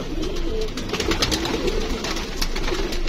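A Rampuri pigeon coos in soft, low, repeated throaty calls, close by over a steady background hum, with no talking.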